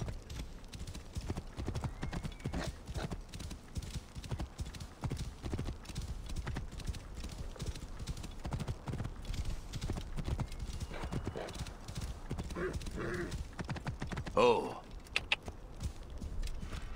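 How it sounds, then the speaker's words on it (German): Horse hooves clip-clop steadily in the Assassin's Creed Origins video game, a continuous galloping rhythm throughout with a brief whinny near the end, under background game sounds and occasional talk. "Also wieder aufs Pferdchen und wieder einmal eine Runde."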